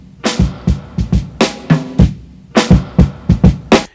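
Drum loop whose snare is processed by multiband upward expansion, a steady pattern of punchy kick and snare hits with crisp transients, close and fairly loud, no voices.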